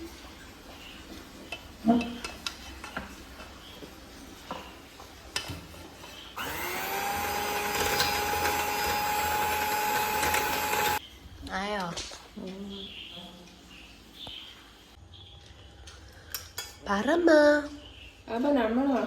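Electric beater whipping cream for a homemade cake runs as a loud, steady whirring burst lasting a few seconds in the middle, with people talking before and after it.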